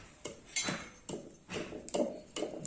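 Rhythmic pounding of nuts such as walnuts and cashews for panjiri, metallic knocks struck about every half second, close and steady with no talk.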